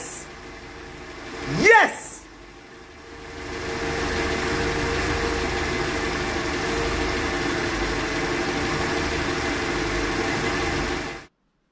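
A Mercedes with KE-Jetronic fuel injection idles steadily at close range, a brief rising rev or whine early on, then an even engine drone holding to the end.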